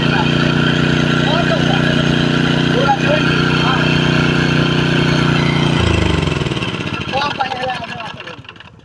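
A Kirloskar diesel water pump engine runs with a steady, loud, rhythmic chug that slows and fades near the end as it winds down, with faint voices around it.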